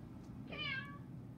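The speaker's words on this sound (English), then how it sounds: "Say meow." A single short synthesized cat meow plays from an Alexa smart speaker, fairly faint and alone against quiet room tone.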